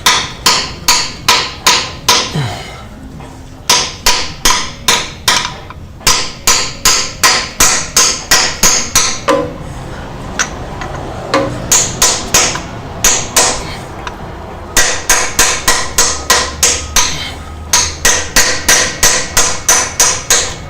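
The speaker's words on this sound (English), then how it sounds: "we just try and tap it in as evenly as we can" A hammer taps a transmission driver into the extension housing of a Ford BTR M74 four-speed automatic, striking in quick rhythmic bursts of sharp metallic blows with short pauses between runs.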